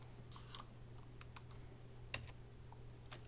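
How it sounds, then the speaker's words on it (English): Sparse computer keyboard typing, a handful of separate key clicks at an uneven pace over a low steady hum, quiet and close with no voices. "typing on my keyboard,"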